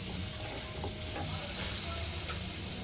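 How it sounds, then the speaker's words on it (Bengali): Potatoes and onions fry together on a high flame with frequent stirring, a steady broadband sizzle with soft scraping strokes running throughout, close and even with no voices. "এই অবস্থায় আমি ভেজে নিচ্ছি ঘন ঘন নেড়ে।"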